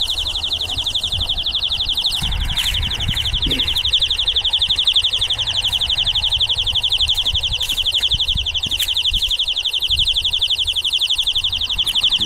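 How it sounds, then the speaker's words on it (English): A shrill electronic alarm beeps rapidly and continuously over a low rumble, steady and loud, with no talking. "Beep!"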